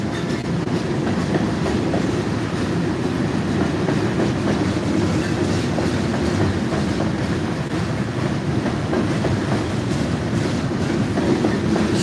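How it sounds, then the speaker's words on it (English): Freight train hauling asphalt rolls past, a steady loud rumble with faint rhythmic wheel clatter that holds level and unbroken throughout. "It's one of them asphalt trains."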